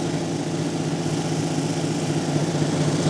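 A lapidary 280 grit wheel smooths a free form cabochon, giving a steady, close motor hum and grinding drone with no break or voice.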